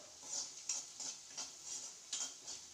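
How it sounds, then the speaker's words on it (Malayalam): Sliced onions with curry leaves and salt stirred in a pan for cabbage thoran, soft scraping strokes in a regular rhythm, about five spaced sweeps over a faint sizzle, quiet and close. "നന്നായിട്ടൊന്ന് ഇളക്കുക."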